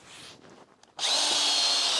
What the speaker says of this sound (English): when you're tapping, you want to go in about inch and a half